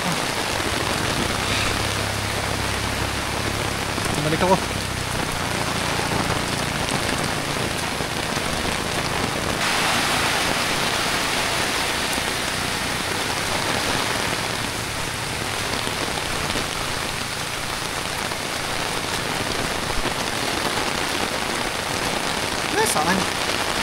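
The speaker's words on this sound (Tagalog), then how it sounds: "Solid talaga ang ulan" Heavy rain falls steadily at a campsite, a dense hiss of drops on surfaces that runs the whole time, with brief faint voices now and then.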